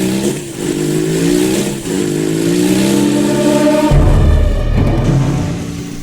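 A motorcycle carrying two riders revs loudly and close by, its engine note climbing steadily, then dropping into a deeper rumble near the end. Nobody talks over it.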